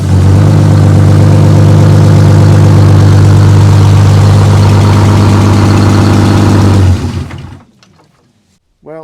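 A supercharged two-stroke V12 GM Detroit diesel in a dump truck runs with a loud, deep, even drone close by, then cuts off abruptly and falls to near silence with a few faint knocks afterward.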